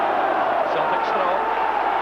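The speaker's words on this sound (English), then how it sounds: "the crowd getting right behind Celtic" A football crowd at a Celtic versus Hearts match roars in support of Celtic, a dense, steady mass of cheering and shouting that stays loud throughout under a commentator's voice.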